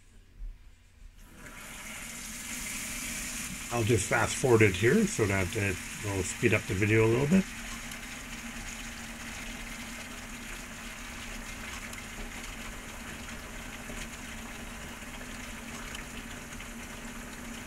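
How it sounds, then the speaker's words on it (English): Steady rushing of cold tap water filling a stoppered sink, running throughout, with a person talking over it partway through. "Let me just put the stopper in and fill up the sink with cold water"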